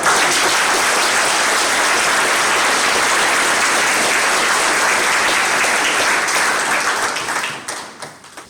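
A large audience applauds at a military retirement ceremony, a loud, steady wash of clapping that holds for several seconds before tapering off at the end.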